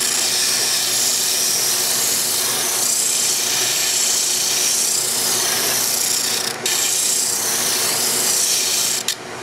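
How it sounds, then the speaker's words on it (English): A bandsaw cuts wood for a cigar box guitar headstock, giving a loud, continuous rasping hiss with steady motor hum underneath and two brief dips near the end as the cut eases, with no voices. "I'll cut this out on the bandsaw, and then I'll bring it back to the sander and smooth out those curves"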